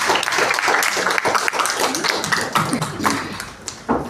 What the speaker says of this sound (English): Thank you, and a big bow of applause.